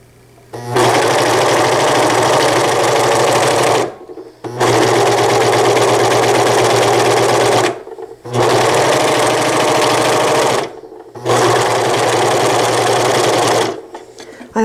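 A serger sewing machine stitching fabric runs in four loud, steady bursts of rapid mechanical whirring, separated by brief pauses, close and uninterrupted by talk.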